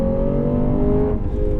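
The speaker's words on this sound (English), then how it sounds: "you only get those good noises when you're revving it" A Lexus GS F V8 engine revs hard, a loud, close, steady growling drone with strong rich harmonics throughout the short burst.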